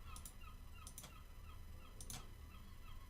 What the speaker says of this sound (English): I apologise if you can hear seagulls outside.